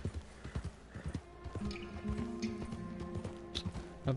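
Horse in Red Dead Redemption 2 clip-clopping at a trot with rhythmic hoofbeats, and a neigh and whinny partway through, fairly quiet and without talk.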